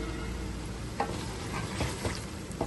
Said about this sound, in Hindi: माशाल्लाह से ज़बरदस्त ही हमारे मटन की भुनाई हो रही है